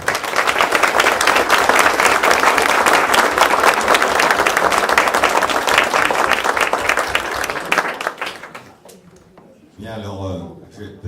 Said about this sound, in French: je vous demande d'applaudir tout d'abord les élèves pour leur travail